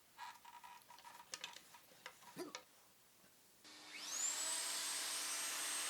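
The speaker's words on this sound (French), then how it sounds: "je fais 3 rainures en V dans ma planche à la défonceuse avec une fraise à écrire" A router fitted with a 90-degree V-groove bit spins up to cut grooves in a wooden workbench top plank. Light clicks and taps of handling come first, then a sudden loud, steady high whine holds to the end.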